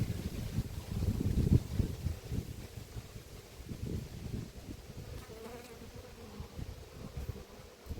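Agitated bees swarm and buzz around a hive at an apiary, a steady, close, rough drone that swells briefly early on and continues over light wind noise with no talking.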